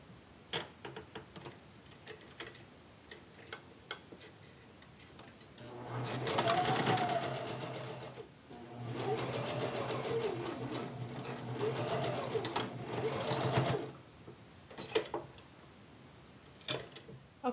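A sewing machine stitches the side seams of a kimono in two sustained runs, a shorter one and then a longer one, separated by a brief pause. Faint ticking and clicking surround the runs.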